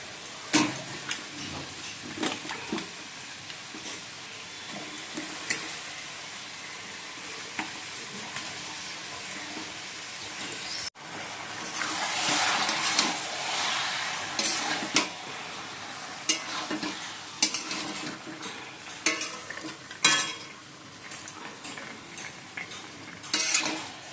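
Chicken pieces fry with spices in a pan alongside fried potatoes and chopped onion, giving a steady sizzle broken by scraping stirs and metal utensil clinks, with a louder, fuller burst of frying partway through.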